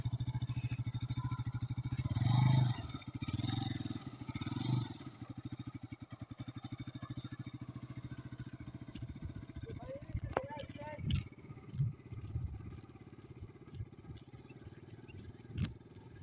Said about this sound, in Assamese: তারপর সব স্টার্ট করিল রে বাইকখন